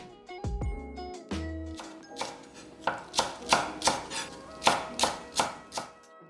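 A knife slices a green onion (daepa) into half-centimeter pieces on a cutting board for a bracken dish, a few scattered taps at first, then a steady rhythmic run of about a dozen crisp, close chops.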